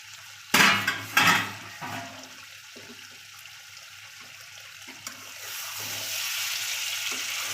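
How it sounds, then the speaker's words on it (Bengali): A lid is lifted off a pot of simmering chicken kosha, giving two sharp clanks near the start, followed by a soft, steady hiss that swells toward the end. "এবার আমরা ঢাকাটা তুলে দেখব আমাদের কতটা হয়েছে"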